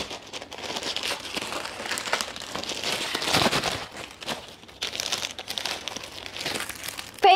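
Plastic packaging from a Temu parcel crinkles and tears continuously as it is opened, a close, busy rustling with brief louder rips, no talking.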